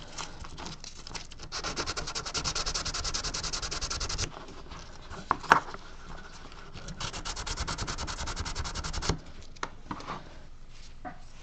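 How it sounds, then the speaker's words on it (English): Sandpaper is rubbed in quick strokes against a carved model part, in two long bursts of dense scratchy rasping, close and fairly quiet, separated by a pause with a few small taps and clicks. "Where did my little sandpaper go here?"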